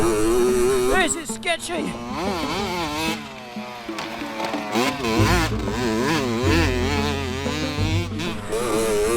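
Small dirt bike engine revving hard while being ridden, a loud, close, buzzy wail that climbs and falls repeatedly in pitch, with someone shouting excitedly over it.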